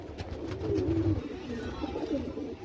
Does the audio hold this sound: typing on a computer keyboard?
no